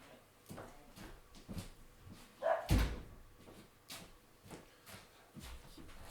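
A household door is pushed shut with a single close, sharp thump partway through, while a dog barks in short bursts throughout.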